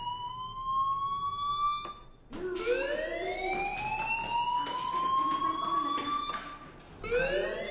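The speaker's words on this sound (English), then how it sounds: "do you hear that fire alarm?" School fire alarm in the video game Life is Strange, a rising electronic siren tone that sweeps upward, cuts off and restarts, repeating in long wails at moderate loudness with no talk over it.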